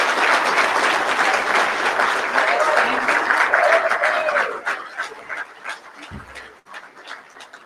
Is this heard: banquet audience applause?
yes